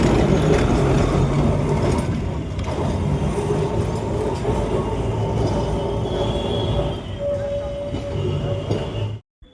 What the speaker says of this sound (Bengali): আমরা এখন ফাইনালি গড়িয়াহাট ট্রাম ডিপোয় ট্রামটা কিন্তু ঢুকে যাচ্ছে।